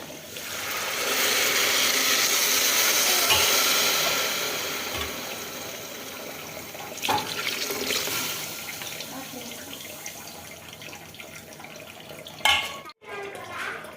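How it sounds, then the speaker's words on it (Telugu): Water pours steadily into a pot of rice and split mung dal for several seconds, then tapers off, followed by a few clinks and a sharp knock near the end. "ఒక గ్లాస్ రైస్ అండ్ పెసరపప్పుకి 3 గ్లాసుల వాటర్ యాడ్ చేసుకోండి ఫ్రెండ్స్"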